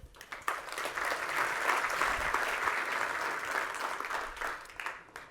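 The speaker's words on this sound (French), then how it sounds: "on peut les applaudir." Sustained audience applause at a French tech talk on DevOps, a steady dense wash of many hands clapping that swells and holds for several seconds before tapering off, with no voices over it.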